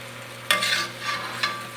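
Roast chicken pieces sizzle in a pan under a low kitchen hum, with two sharp scraping bursts as the pieces are flipped over.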